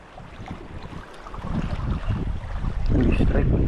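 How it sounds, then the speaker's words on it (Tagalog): Strong gusts of wind buffet the microphone, a rough roar that builds and grows louder toward the end. "hangin."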